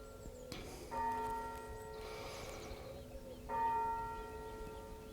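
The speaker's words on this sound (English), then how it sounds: "Church bells." Distant church bells toll at seven in the evening near a carp fishing lake at Marbury, two clear ringing strikes a couple of seconds apart over a quiet outdoor background.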